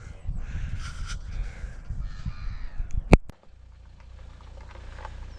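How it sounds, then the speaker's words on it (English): Crows caw outdoors along the Pagham Harbour North Wall amid steady wind and background noise, followed by a sharp click and a quieter stretch. "Lots of birds."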